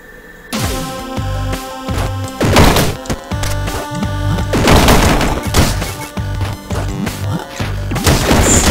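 Crystal boom attack in the video game Bonewell, a run of loud, dense crashing and booming game effects with layered tonal chimes, bursting repeatedly over about eight seconds with no gaps.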